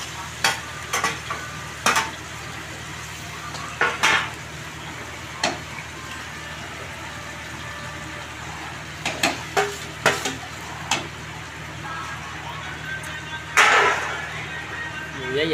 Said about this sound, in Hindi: अब देखिए इनको तला जा रहा है लहसुन डाल के